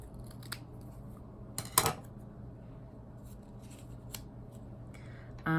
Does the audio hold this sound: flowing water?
no